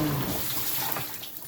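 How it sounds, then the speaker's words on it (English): A repaired dishwasher with a new pump seal sprays water steadily inside its tub, a continuous loud rushing hiss and splash with no pauses. "it's really kicking out the water"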